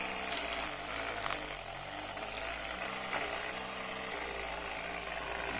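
An AliExpress massager's motor running at its sixth, fastest mode, a steady continuous hum and buzz with faint vibration, close and unbroken, with no talk.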